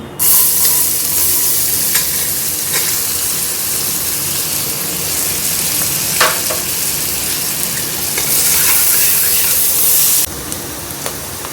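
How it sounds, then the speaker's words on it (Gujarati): Chopped onions sauté in a pan for Mumbai-style pav bhaji, giving a steady, loud sizzle with occasional stirring scrapes and hissing bursts throughout. "હવે આપણા કાંદા સંતળાઈ ગયા છે"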